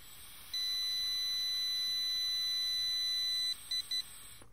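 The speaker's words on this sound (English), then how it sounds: "Okay, so it beeped, and now it's going to measure it." A breath ketone meter gives one long steady high-pitched beep, then two short beeps in quick succession, close and clear with no talking.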